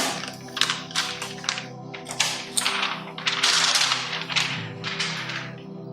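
Protective plastic film peeled off a new Samsung Galaxy M31 smartphone, heard as a series of close, crisp crackling tears in short bursts, alone without talk.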